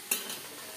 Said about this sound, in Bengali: এবার অ্যাড করেছি জিরে